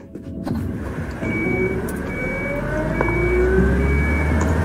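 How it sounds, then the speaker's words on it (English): A heavy truck engine in the UnMetal video game turns over and settles into a low rumbling idle that grows louder and steadier, with a faint tonal whine above it. "Crap, they started the engine."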